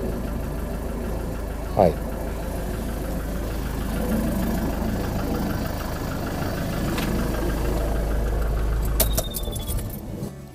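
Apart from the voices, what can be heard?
car engine idling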